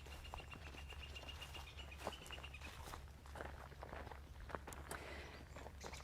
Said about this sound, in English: we see all kinds of birds. You can hear them right now.